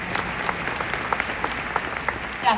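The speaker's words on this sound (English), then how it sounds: "I'm gonna clap for that." Brief applause from a pharmacy conference panel audience, a light scattering of hand claps in a hall, fairly soft and steady.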